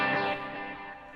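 Electric guitar played through a medium plate reverb preset on a Line 6 HX Stomp, a sustained chord ringing out and trailing off into a smooth, washy tail, moderately loud and alone.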